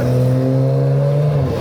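Cars rev loudly and drive past on a street in Malacca, Malaysia, a strong engine drone with steady harmonic tones that shift slightly before fading as a vehicle passes, with no talking.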